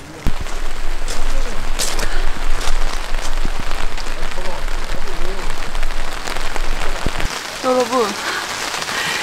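Steady rain drums loudly on a tent at a windy solo campsite, a dense close patter that continues throughout, with someone speaking briefly over it near the end.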